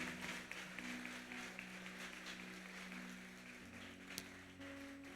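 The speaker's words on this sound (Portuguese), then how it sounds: "Pode aplaudir," A church congregation at a Baptist service claps together, a soft, steady patter of hands heard at a distance under a sustained organ or keyboard hum, fairly quiet overall.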